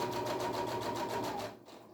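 A sewing machine runs a quick back stitch along the seam of a zipper purse, a fast, even mechanical chatter lasting about a second and a half before stopping.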